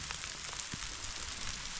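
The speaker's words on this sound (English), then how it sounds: "It is hailing." Hail pelting the ground and gear during a surprise hailstorm on a Colorado mountainside while elk and bear hunting, a steady dense patter of small icy impacts close by with no talking.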